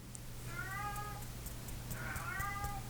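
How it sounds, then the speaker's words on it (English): A cat agitated at a door lets out two drawn-out, rising meows a second apart, fairly quiet against a steady low background hum. "And now my Leo cat is like freaking out at the door."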